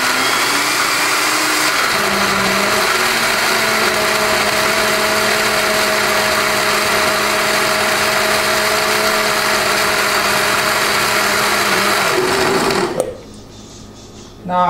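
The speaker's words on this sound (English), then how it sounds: "Mix it in there a little bit more and blend" A countertop blender whirs at a steady high pitch while blending Haitian epis spice paste, running loud and constant for around thirteen seconds, then cutting off sharply.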